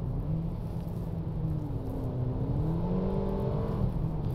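A 2021 Mercedes GLB250 SUV in sport mode accelerates with a steady, rising engine hum, heard faintly from inside the cabin as the gears shift upward, with no one talking.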